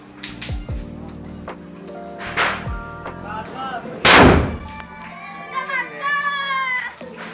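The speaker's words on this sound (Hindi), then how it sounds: "पटाखे फूट रहे हैं" Diwali firecrackers burst in a residential street, with one loud, sharp bang standing out among smaller pops and crackles. Children's voices and chatter can be heard around the blasts.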